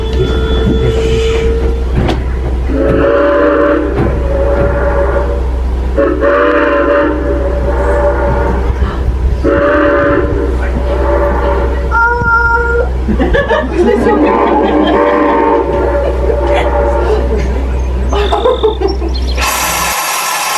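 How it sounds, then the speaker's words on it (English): A steam locomotive whistle sounds in several long blasts over a deep rumbling engine, with pauses between them and fainter answering toots later on, at the Strasburg Railroad in Pennsylvania. "we'll see if we can hear that ghost's whistle answer our whistle today"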